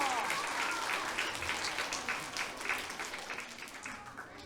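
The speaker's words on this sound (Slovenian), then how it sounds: "Zaslužite si vsi en velik aplavz!" Children in the audience at a regional puppet group gathering clap together in a steady, moderately loud burst of applause that thins slightly toward the end.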